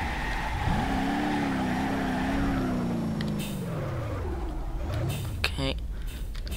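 A car in BeamNG.drive revs and drifts, its engine note rising and holding steady before falling away, then a short second rev with tyre squeals, someone talking over it throughout.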